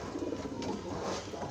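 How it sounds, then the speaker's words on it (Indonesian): A newly bought pigeon coos softly in a pen under a table, low throaty murmurs faint beneath a steady background noise, with no talk. "burung merpati baru saya beli"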